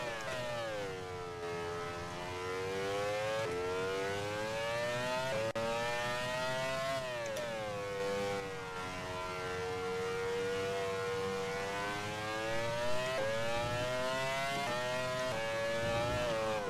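Formula 1 car engine in the racing game Grand Prix 4 on the Barcelona circuit, a loud, continuous high-revving whine rising and falling with gear changes and throttle, heard alone without talk.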